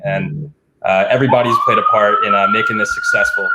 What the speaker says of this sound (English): Sorry for the sirens there.